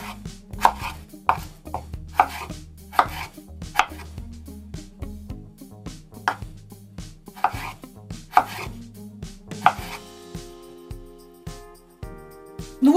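A knife strikes a cutting board in quick, steady chops, cubing potatoes, near and crisp, with brief pauses and a scrape of pieces at the end.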